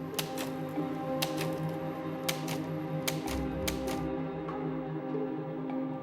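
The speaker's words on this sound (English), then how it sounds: "MI5 made this very difficult by insisting Pujol change to using a typewriter for the cover letter" A typewriter from the 1940s era of wartime espionage clacks in irregular bursts of sharp keystrokes, with a carriage-return ding partway through, over a steady low background hum; no one speaks.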